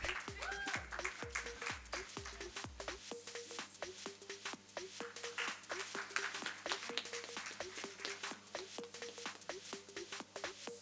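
An audience at a university convocation in New Delhi applauds, a dense, steady wash of many hands clapping at moderate volume throughout, with a faint low hum underneath.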